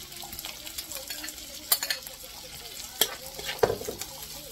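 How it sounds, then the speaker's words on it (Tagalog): Onion and garlic sauté in a pan with a soft, steady sizzle, broken by a few sharp scraping stirs and utensil clicks against the pan, close and fairly quiet. "lagay na natin yung ating sibuyas na panggisa"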